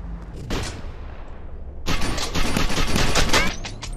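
Rapid gunshots as enemies are shot down in the VR parkour game STRIDE, a loud close volley that follows an earlier single burst.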